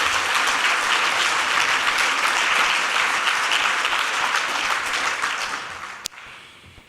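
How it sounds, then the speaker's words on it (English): An annual-meeting audience bursts into loud, dense applause that holds steady for several seconds, then tapers off near the end. "So can we give another round of applause for the hardest job?"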